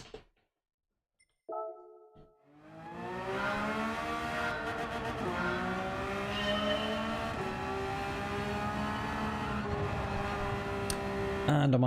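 Race car engine in the Gran Turismo 7 video game, racing at Yas Marina: a sustained loud engine drone with rising and falling revs through gear changes, starting after a short silence and a brief tone.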